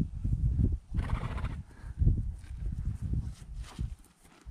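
A draft horse, an Ardennes, snorts and whinnies close by while hooves thud and shuffle on the ground in an uneven rhythm.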